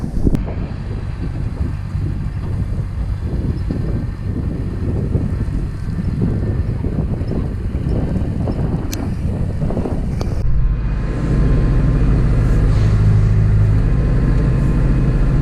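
A tractor with a spreader spreads lime on a meadow. A low, steady engine rumble runs under heavy wind buffeting and deepens into a stronger drone near the end.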